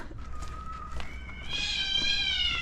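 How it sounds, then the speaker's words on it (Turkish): Cats fighting in a village, yowling and screeching, a drawn-out cry rising into harsher, higher wails, with rustling and faint background noise. "Kediler savaşıyor şu an."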